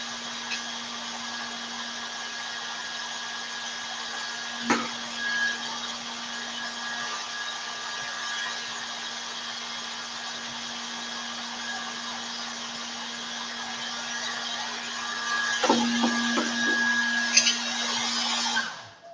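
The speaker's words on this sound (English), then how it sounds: "This happens because the hairdryer produces fast-flowing air and creates a column of low air pressure." A hair dryer blows with a steady, even whooshing roar and a low motor hum, running continuously with a couple of small knocks.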